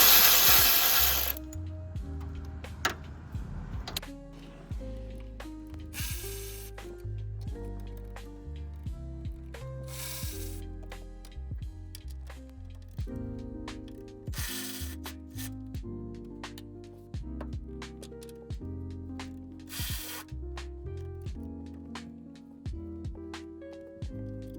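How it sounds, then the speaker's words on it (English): An automatic ratchet removes 14mm strut bolts on a Subaru WRX, making repeated mechanical bursts and ratcheting clicks up close. A tonal hum runs underneath. "let's get these strut bolts off. It's a 14mm. If you don't have one of these automatic ratchets"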